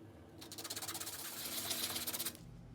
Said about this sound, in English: I now have to smooth out this rough edge on this coarse sandpaper.